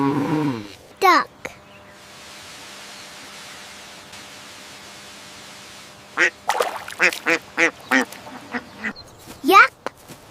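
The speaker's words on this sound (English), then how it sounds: "Duck." A duck quacks in a rapid series of short, nasal calls after a long quiet stretch with faint hum, close and distinct, with brief voice-like sounds at the start and near the end.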